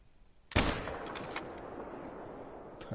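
One loud rifle gunshot in the hunting video game The Hunter: Call of the Wild cracks out suddenly and trails off into a fading echo, with nobody talking.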